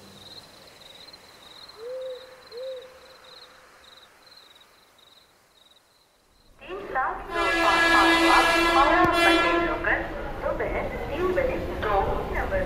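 A train at Howrah station's platform 8 rumbles in loud and close after a stretch of quiet with steady hooting tones, its dense mechanical clatter and a horn-like blare filling the second half.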